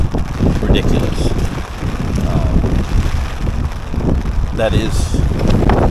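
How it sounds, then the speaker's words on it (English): Strong gusting wind buffets the microphone beside the water during a spring carp feeder fishing session, a constant low roar with a brief spoken phrase over it. "The wind has gotten just ridiculous."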